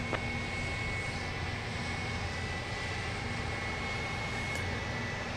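Southwest Airlines jet airliner at Dallas Love Field, a steady roaring engine rumble at moderate distance, continuous and unchanging, with no voices.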